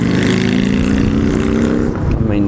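An Aprilia Tuono motorcycle engine runs close and loud, a steady rumbling idle with strong low harmonics throughout and a slight dip near the end.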